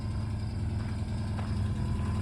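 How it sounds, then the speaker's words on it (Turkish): Opel Kadett car engine idling with its exhaust running, a steady low rumble heard from a short distance, continuous and unbroken with no talking over it. "Şimdik şu arkada çalışan egzoz sesi bize doğru gelen araba senin araba."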